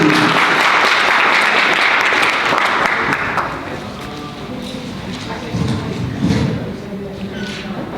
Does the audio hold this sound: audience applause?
yes